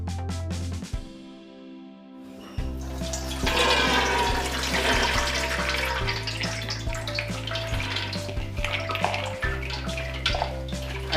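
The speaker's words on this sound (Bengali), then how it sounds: "ডালের জল ছেঁকে নেব।" Water drains from soaked chana dal in a home kitchen, a steady rushing pour that starts after a brief quiet pause and runs on loudly and continuously.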